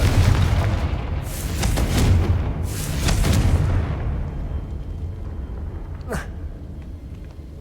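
Fire spell explosions from Confringo in the Hogwarts Legacy video game: loud, deep booms with crackling bursts in two or three waves. A sharp whoosh comes near the end as the rumble dies away, with a voice talking over it.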